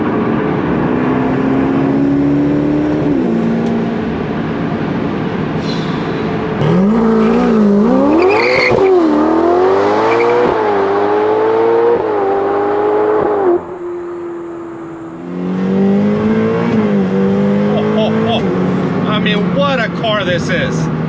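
A fast sports car accelerates hard on a straight, its engine note climbing in loud rising sweeps with a brief lift partway through before pulling again, heard close up under a voice talking.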